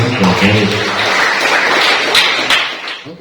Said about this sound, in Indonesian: Sekali lagi tepuk tangan untuk Mbak Rizka ya.